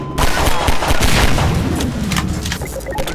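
Rapid gunfire from the video game Half-Life 2, a loud, dense burst of overlapping shots and booms lasting a few seconds with no talking.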